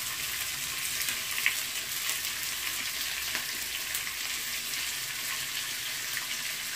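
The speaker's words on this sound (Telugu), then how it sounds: "ఇది కొంచెం వేయించుకుందాం గోల్డెన్ బ్రౌన్ వచ్చిన దాకా" Onions, shallots and dried red chillies frying together in a pan for munakkaya pappu, an even, fairly quiet sizzle with a few faint clicks and stirs, close and alone.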